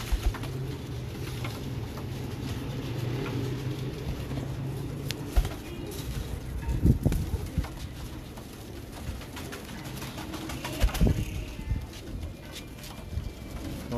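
Pigeons of the Jurra Lala Qamar Deen Khan and Imam Deen line, gathered in a loft and on the ground, cooing in low repeated calls amid scattered wing flaps and rustling, fairly close and continuous with no talk.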